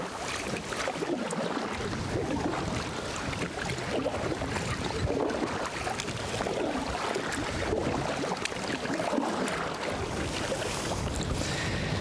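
A canoe is paddled across a lake in Nuuksio National Park, with steady water swishing and splashing from the strokes, soft and close, mixed with wind buffeting the microphone and no talking.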